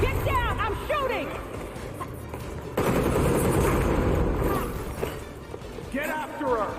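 Rapid bursts of gunfire crackle through a Gotham Knights fight, heavy automatic volleys with impacts and crashes, mixed with shouting voices and game chatter.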